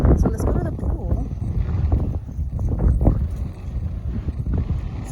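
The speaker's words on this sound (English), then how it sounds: "Super windy." Strong wind buffets the microphone on an ocean beach beside a hotel resort, a steady rumbling roar with gusty swells throughout, while a few voices are heard faintly in the background.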